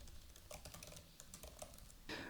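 Fast, quiet typing of code on a computer keyboard, a steady patter of close key clicks ending in a louder keystroke, with no one speaking.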